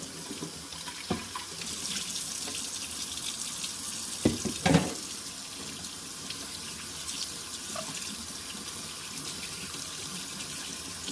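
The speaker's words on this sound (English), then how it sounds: "pretty easy to rinse off, not a big deal" Tap water pours steadily while parts of a Maircle F1 smart wet dry vacuum are rinsed, with a few brief splashes and clatters of plastic pieces under the running stream.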